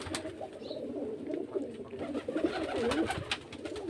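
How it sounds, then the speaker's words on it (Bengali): Murshidabad Giribaz pigeons coo from a pigeon stand, soft repeated throaty calls overlapping at close range with some faint background noise. "সব মুর্শিদাবাদের গিরিবাজ লাইনে পায়রা।"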